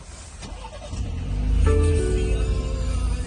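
A 2019 BMW 3 Series fires up from its start-stop button, a cranking surge settling into a steady idle hum that stays close and fairly loud, with no talking.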